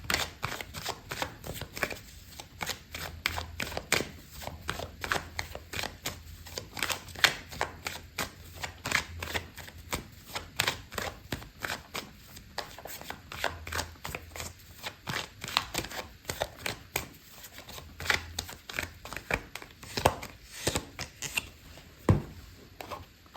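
Tarot cards being shuffled continuously, a rapid run of crisp flicks and riffles with occasional soft taps as cards are pulled, close and fairly quiet, no talk.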